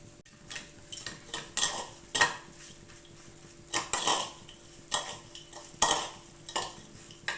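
A spoon scrapes and clinks in a bowl in an uneven rhythm while a coconut filling is mixed with jaggery and cardamom. The sound is close and fairly quiet, with no voices.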